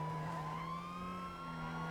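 Two police sirens wailing together in a video game, steady rising and falling tones that overlap and run continuously at fairly close range with no one talking.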